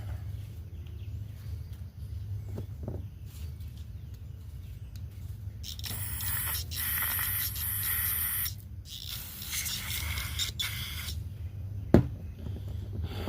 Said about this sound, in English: give me some more carburetor spray